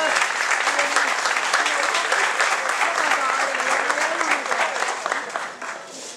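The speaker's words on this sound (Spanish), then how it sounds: "Un aplauso, por favor." Lively applause from a festival crowd after a performance at a San Roque fiesta in Telde; dense clapping with some voices in the crowd, fading toward the end.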